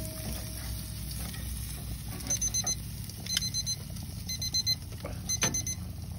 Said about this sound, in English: Our timer just went off, just hit our 5 minute mark.